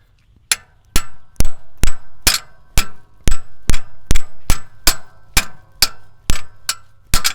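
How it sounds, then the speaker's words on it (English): A hammer strikes a stuck metal part in a steady series of about a dozen sharp, ringing clanks, loud and close, with short gaps between blows. "I need like a hammer to hit this or something."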